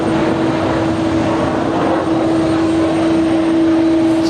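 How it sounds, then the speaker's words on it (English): A Virgin airliner passes at JFK airport, its engines giving a loud, steady roar with a sustained drone tone, close and unbroken throughout with no voices. "There goes the Virgin flight at JFK."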